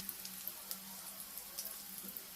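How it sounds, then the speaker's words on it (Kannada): Curry leaves spluttering and crackling in hot oil for kaara pongal, a steady fine sizzle with scattered sharp pops throughout, close and fairly quiet, no talking. "ಈಗ ಕರಿಬೇವಿನ ಸೊಪ್ಪು ಚಟಪಟ ಅಂದಮೇಲೆ ಇವಾಗ ಹಿಂಗನ್ನ ಆ್ಯಡ್ ಮಾಡ್ಕೊಳ್ಳೋಣ"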